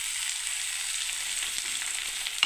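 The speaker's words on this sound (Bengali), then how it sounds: "দেখুন এবার আমি নাড়তে থাকবো।" Mixed vegetables with beetroot, carrot, ginger and tomato fry in a pan, producing a soft, steady sizzle with a few light stirring taps and a sharper clink near the end, fairly close and unaccompanied by talk.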